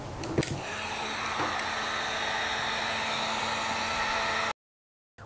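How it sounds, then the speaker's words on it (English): A heat gun blows hot air onto a strut: a steady whooshing fan-and-heater hiss that runs evenly for several seconds with a faint tonal hum, then cuts off abruptly into silence. "we're going to hit it with a heat gun"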